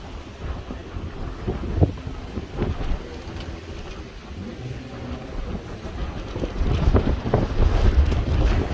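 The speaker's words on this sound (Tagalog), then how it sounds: "it is so windy" Strong wind buffeting the microphone at Seven Mile Beach in Gerroa, New South Wales, a loud continuous roar with gusty low rumbles that build stronger in the final seconds.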